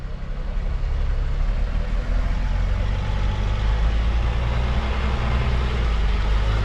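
A heavy expedition truck engine drones steadily through mud, a low continuous rumble rising slightly as the throttle is pushed, close and unbroken.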